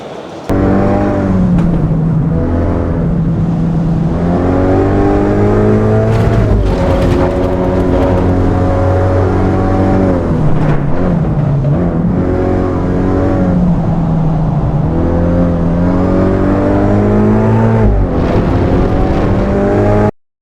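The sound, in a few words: race car engines in a video game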